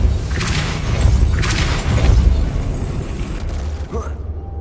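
A Depulso force spell is cast in Hogwarts Legacy, a loud booming whoosh with rumbling low impact that swells twice, then trails off into quieter game ambience.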